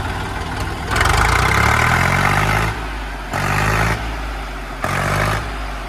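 An Arjun 605 tractor engine starts, heard up close in repeated loud bursts of cranking and revving, separated by lower idling stretches.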